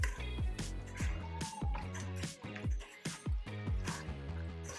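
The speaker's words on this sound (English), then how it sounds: "we're going to give it a nice mix around." Thick rice noodles are tossed and stirred into a honey peanut sauce, making wet, sticky squelches in a quick, uneven rhythm, close by with some clattering of utensils.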